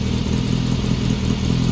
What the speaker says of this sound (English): that little motor sounds pretty darn good